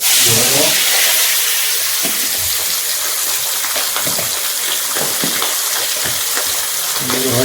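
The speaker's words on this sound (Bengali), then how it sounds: "মাছগুলো ভেজে নিই মাছগুলো সুন্দরভাবে ভেজে" Pangas fish pieces frying in a pan sizzle loudly and crackle up close, with bursts of bubbling and spattering as the fish is turned, no talking.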